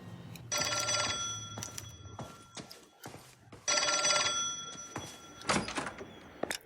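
An old-fashioned telephone bell rings in an apartment in the game L.A. Noire: two long, loud, metallic rings separated by a pause, with a few short clunks and thuds between and after them.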